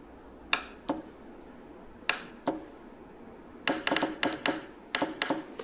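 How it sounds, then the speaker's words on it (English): A sprinkler valve solenoid snaps with sharp, dry clicks as its leads touch a 9-volt battery: scattered single clicks first, then a quicker burst of several in a row, close and distinct over quiet room tone. "just grab a 9-volt battery and put them on each side and listen for the click"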